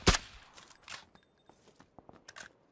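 A single sharp, loud sniper rifle shot in Apex Legends at the start, followed by quieter scattered clicks and small impacts.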